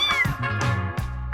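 A small yellow street kitten meows several times in quick succession, close and clear, with thin, high-pitched cries and no other sounds around it.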